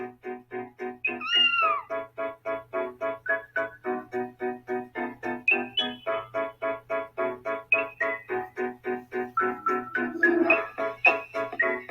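A cat in an AR app meows over and over in a steady, fast rhythm, with some calls rising into higher, drawn-out mews. The sound is close and clear, with no talking.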